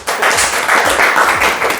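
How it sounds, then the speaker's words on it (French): An audience at a French television show applauds a guest, a steady, fairly loud burst of clapping from many hands that fills the whole moment. "On applaudit Christiane."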